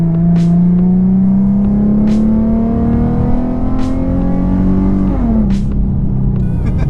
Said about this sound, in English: the exhaust is a little loud. I'm barely touching that pedal.